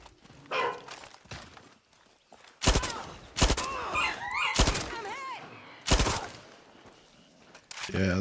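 Gunfire in the video game Far Cry 6 breaks out in sharp, loud shots, a few single cracks and short bursts spaced a second or so apart. A voice talks between and over the shots.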